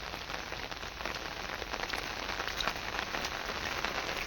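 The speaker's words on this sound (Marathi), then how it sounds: "तरी इतका पाऊस आहे।" Steady rain falls in an outdoor spot where animals are kept, a continuous even hiss of drops pattering on surfaces with no voices over it.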